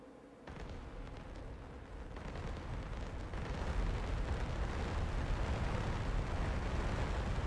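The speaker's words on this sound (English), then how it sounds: "These are like advanced cluster bombs." Cluster bombs blasting a runway area in the DCS flight simulator, a dense rolling roar of overlapping explosions that swells and holds loud without pause.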